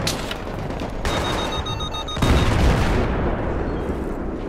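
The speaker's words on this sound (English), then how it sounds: "the tank got killed by a anti-tank mine" A loud burst of gunfire and a booming blast in a Battlefield 3 firefight, as an anti-tank mine destroys a tank; dense rumbling explosions and shots crowd the whole stretch.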